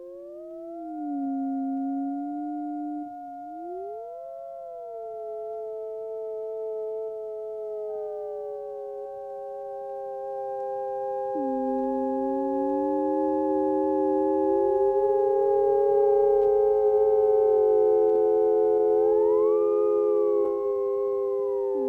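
Percy Grainger's Free Music No. 1 played on a synthesiser: several smooth, sustained sine-like tones gliding and swooping in pitch, layered and slowly swelling in loudness, with no voices.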